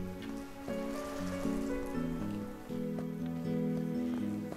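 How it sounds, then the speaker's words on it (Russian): Rain falling in the video game Deiland, a soft hiss of drops pattering on surfaces under steady in-game music, continuous and moderately quiet. "О, дождик пошел."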